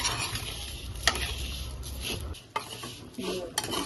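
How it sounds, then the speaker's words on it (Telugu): Vermicelli frying in a pan while being stirred until reddish-golden, with steady sizzling and repeated scraping and clinking of the utensil against the pan, close and alone without speech. "ఇలా ఎర్రగా దోరగా వచ్చేలాగా వేపుకోవాలి"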